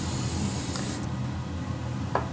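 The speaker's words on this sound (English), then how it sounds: "The Krylon is an acrylic clear spray." Krylon acrylic clear spray hisses steadily from the can onto a plexiglass sheet, close and continuous throughout with no talking.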